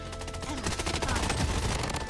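Rapid automatic gunfire from the shooter game Blood Strike, a dense, continuous burst of shots rattling loudly and close throughout, with faint voices underneath.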